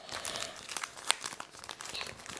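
Donruss NBA trading card packs being torn open, the foil wrappers crinkling and crackling in a steady close-up flurry with one sharper rip near the middle, no voices.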